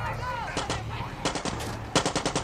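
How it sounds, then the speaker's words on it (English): Unsuppressed gunfire from the video game Far Cry 6 cracks out in rapid bursts of close, loud shots, with a brief pause between the volleys. "what are you doing opening fire without a suppressor?"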